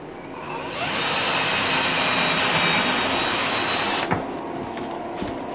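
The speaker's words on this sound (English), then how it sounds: "we'll drill some 5/32 holes" A power drill bores 5/32-inch holes through short wooden pieces, one loud, sustained whine of about three seconds that spins up quickly and then cuts off, leaving a quiet room.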